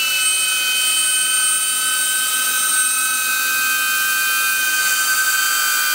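DJI Avata FPV drone motors spinning about 30 cm from the microphone, a steady high-pitched whine with several sustained tonal lines over a constant hiss, loud and unbroken throughout with no voices.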